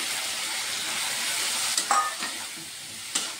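Gobindobhog rice frying in hot oil in a pan, a steady sizzle with a few sharp scrapes and clinks of stirring near the end, close and alone with no talk.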